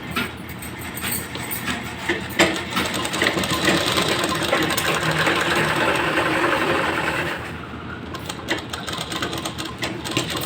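A sewing machine stitches a folded half-inch pant hem with a steady mechanical whirring that lasts several seconds, then gives way to fabric handling and small clicks.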